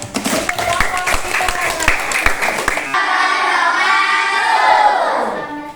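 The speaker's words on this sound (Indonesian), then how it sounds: "Oke, tepuk tangan dulu" Classroom audience of students clapping hands after a group presentation: about three seconds of loose, uneven claps close by, then the clapping stops and children's voices and chatter take over.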